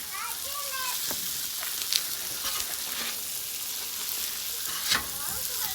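Hamburger buns toast in burger grease on a Blackstone griddle, giving a steady, moderate sizzle throughout. A few brief clinks and scrapes sound over it, and a voice talks faintly in the background.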